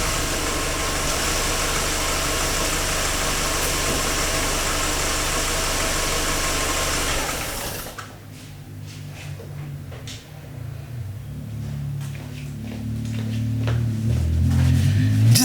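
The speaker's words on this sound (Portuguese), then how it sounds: "Agora, por exemplo, eu vou desligar o carro." A car engine idles with a steady, even hum up close, then is switched off partway through, leaving a lower rumble and faint clicks and movement noises.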